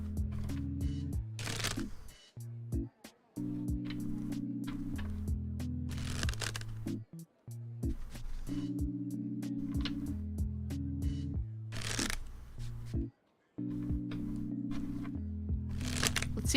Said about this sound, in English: Cards do not want to shuffle sometimes.